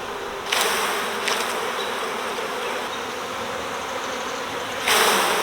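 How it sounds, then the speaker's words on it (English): Honey bees shaken from old frames into a concrete hive make a dense, steady, close buzz that swells in brief louder bursts as each batch drops in. No voices are heard. "we'll get the remainder of these bees shook out into this hive."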